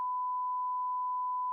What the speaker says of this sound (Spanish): menos mal que pusieron el pitido, porque ahí le está diciendo una de todo